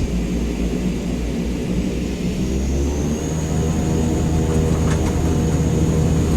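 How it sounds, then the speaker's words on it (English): Cockpit view of a CL-415 water bomber taking off in Microsoft Flight Simulator 2024, a steady loud propeller and engine drone with deep low rumble filling the cabin throughout, no talking. "I will turn up game volume so you can hear how it sounds on takeoff from the cockpit"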